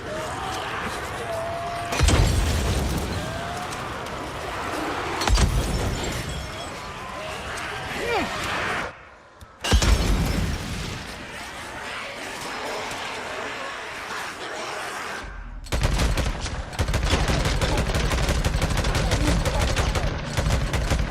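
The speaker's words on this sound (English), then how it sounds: "Now let's try to throw a napalm Molotov without setting myself on fire this time" Napalm Molotov explosions and gunfire in Days Gone video game, loud bursts and sustained roaring fire blasts with heavy crackling volleys, separated by short lulls, with someone talking throughout.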